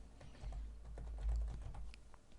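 Quiet, irregular tapping of keys on a computer keyboard, a short run of soft clicks close by with no voices.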